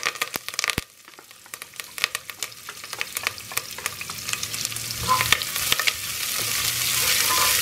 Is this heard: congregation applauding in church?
no